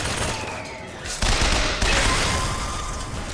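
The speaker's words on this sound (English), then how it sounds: "Machine gun seems to do the trick" A machine gun fires in BioShock Infinite, a loud, dense rattle of automatic shots close by that swells and holds over the game's background noise.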